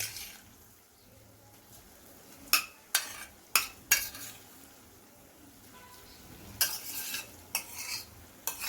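A spoon scrapes and knocks against a pot of vegetable khichdi in a series of sharp strokes, some in quick clusters, over a low simmering background.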